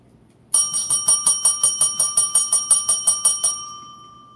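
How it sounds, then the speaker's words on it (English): A bell rings loudly in a rapid, even series of about fifteen metallic strikes over three seconds, then its tone fades away into quiet. "That was an extra long bell moment."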